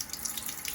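Tap water runs briefly from a faucet to fill a blown-out egg, a short, soft, steady hiss of flowing water with no speech.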